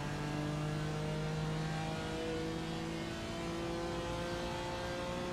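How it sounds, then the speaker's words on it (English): Car engine in a racing video game revving hard as the throttle is punched during a short sprint race, a steady droning mid-pitched engine note held throughout at moderate level with no talk. "open the steering a little bit, punch the throttle"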